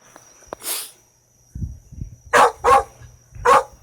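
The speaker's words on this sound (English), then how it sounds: "He has a loud bark," A young, still-growing dog gives several loud, deep barks close by: three or four sharp woofs following some sniffing and snorting, with no talk over them.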